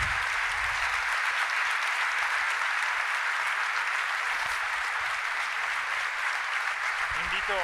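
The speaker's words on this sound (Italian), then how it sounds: "Grazie, un altro grande applauso al professor Paolo Crepè" Sustained audience applause for a professor after his talk at a live event, dense and even clapping that holds steadily at a moderate distance for several seconds.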